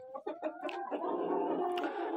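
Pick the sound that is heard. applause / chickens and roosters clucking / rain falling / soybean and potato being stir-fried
chickens and roosters clucking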